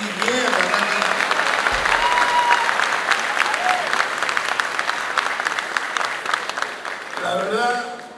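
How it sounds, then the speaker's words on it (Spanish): Loud, dense applause from an audience at a live show in Peru fills the space for about seven seconds, with voices shouting over it before it tapers off. "Un aplauso"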